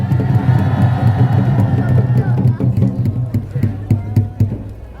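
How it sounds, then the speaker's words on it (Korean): A rally crowd at a Busan Taegukgi gathering cheers and claps, loud hubbub and shouting with scattered claps, thinning toward the end. "큰 박수 부탁드립니다"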